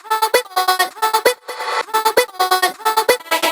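A chopped vocal sample in a remix production, cut into a rapid sixteenth-note stutter with pulsing repeated syllables over a steady kick pattern, loud and close with no talking.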